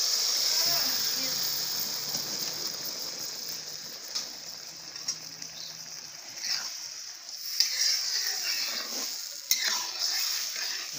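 Water goes into a pan of frying tiny fish, producing a strong hiss and sizzle that settles, broken by stirring scrapes and clinks, with a voice talking over it.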